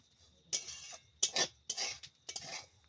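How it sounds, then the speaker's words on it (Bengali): Semolina for rasgulla is stirred slowly in a pan over low heat: four short, separate scraping bursts of a spoon against the pan, close and fairly quiet, with near silence between them. "আস্তে আস্তে করে অল্প অল্প করে জাল দিয়ে ভাজতে হবে"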